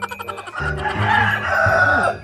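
Chickens cluck loudly and continuously close by in a backyard, with a rooster crowing among them.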